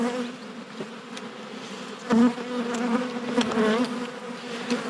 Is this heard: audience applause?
no